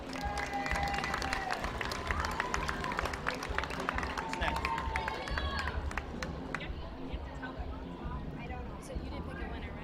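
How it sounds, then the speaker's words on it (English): Audience at a county fair livestock showmanship contest applauding the exhibitors, a dense wash of clapping and crowd noise that stays loud throughout, with some voices mixed in. "Let's give all the exhibitors here a big round of applause."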